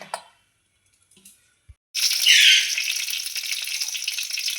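Cumin seeds hit hot oil in a pan and burst into a loud, bright sizzle that settles into a steady crackling fry, after a couple of soft clicks in near silence.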